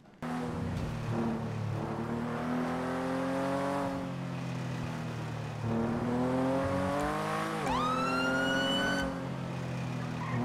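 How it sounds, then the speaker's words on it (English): Police car siren in the video game NoPixel 4.0, a loud continuous rising and falling wail over engine noise, with a sharp upward sweep partway through as the siren tone changes. "It changed the sound of my fucking sirens."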